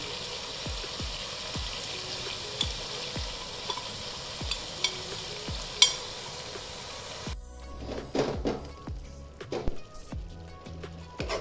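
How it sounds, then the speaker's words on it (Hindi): Ground spices such as garam masala, coriander, chili powder, cumin and salt sizzle in a pan for street-style pav bhaji. A spoon scrapes and stirs in regular strokes, then a louder clatter of stirring follows. "मसाले काफ़ी हद तक भून चुके हैं"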